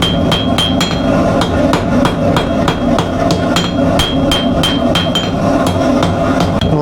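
Rapid, steady hammer blows ring on hot metal while a knife is forged at a blacksmith's forge, loud and close with a bright metallic clang on each strike and no talking.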